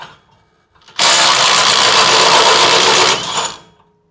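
Ridgid cordless impact wrench firing one loud, steady burst of about two seconds of rapid hammering whir, then spinning down, close up with no talk.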